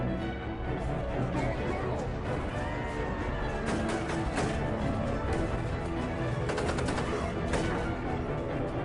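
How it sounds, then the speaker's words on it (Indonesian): Rapid gunfire crackles through a film scene as terrorists open fire in a village to create chaos, with loud bursts of shots over a dense, continuous layer of music and action noise. "mereka melepas tembakan untuk membuat kekacauan"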